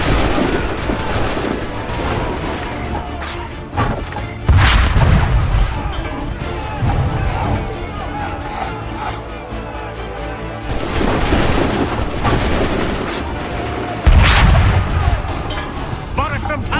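Musket volleys crack out in Assassin's Creed 3 amid battle against redcoats, with two heavy booming bursts standing out over a continuous rumble of distant fire and voices.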